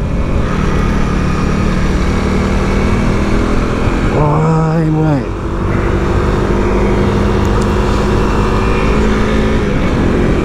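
Honda CRF300L motorcycle climbing the Khao Yai mountain road, its engine droning steadily under constant wind rush, with a brief shifting whine midway.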